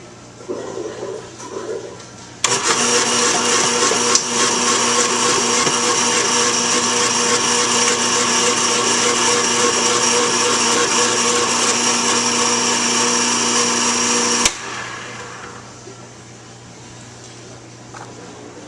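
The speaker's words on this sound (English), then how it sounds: "I got all the carrots sliced up, so they're all coins" A food processor slicing peeled carrots into coins starts abruptly with a loud, steady motor whir and clattering of the cut pieces, runs for about twelve seconds, then cuts off and winds down to quiet.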